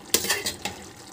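Food being stirred in a pan, three or four quick scraping clinks of a utensil against metal over a faint sizzle, close and fairly loud.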